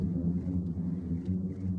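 A desert sand dune booms with a low, continuous droning hum like a long sustained note, steady and moderately faint with no voices.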